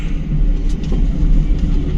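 A tanker truck rolling past among heavy trucks on a national highway, a loud, steady low engine and road rumble close by, with no talk.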